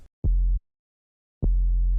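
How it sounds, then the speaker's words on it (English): A sub bass synth layer hits twice with deep, short, loud low notes, each opening with a soft attack and ending abruptly, separated by silence. "So yeah, that's the sub."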